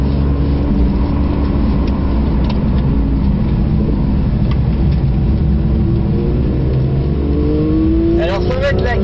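A Porsche 992 engine warms up on the Nürburgring GP track, a loud, continuous close drone that climbs in pitch near the end, with voices talking over it.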